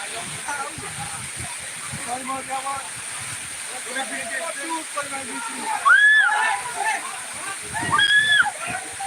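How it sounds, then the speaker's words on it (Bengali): Heavy rain with wind pours outdoors in Bangladesh as a continuous wash of hissing, splashing water, while people talk close by over it. "বৃষ্টি কিন্তু দেখতে পাচ্ছেন পানির জল"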